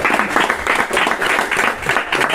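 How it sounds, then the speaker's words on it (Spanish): An audience at a book presentation for the author Laura bursts into loud, dense applause close by. The clapping stays steady for a couple of seconds with faint crowd murmur. "quiero despedirlos con un fuerte aplauso para Laura"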